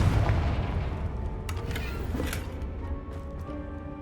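Confringo blasting spell cast in the Hogwarts Legacy video game, heard as a dense, rumbling explosive burst with crackling impacts that stays loud throughout, backed by a low sustained boom.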